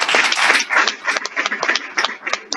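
Audience applause at a panel discussion on institutional dialogue for conflict resolution, a continuous patter of many hands clapping at moderate loudness, heard alone without talk.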